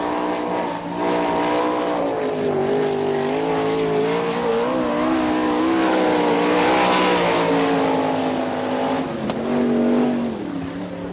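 A sprint car with a 2+ number laps a dirt oval at an All Stars event in Wichita, its engine roaring loud and close with rising and falling harmonic pitch as it accelerates and lifts through the turns.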